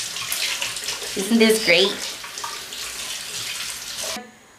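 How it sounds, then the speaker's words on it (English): Tap water running steadily while hands are washed at a kitchen sink, a close, continuous splashing hiss that stops abruptly near the end, with someone speaking briefly over it. "Wash my hands because I forgot to wash my hands."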